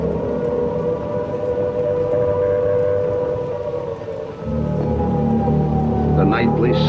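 An air raid siren wails steadily over London during the Blitz, a long, loud sustained tone with rumbling low drone beneath and a rising pitch toward the end.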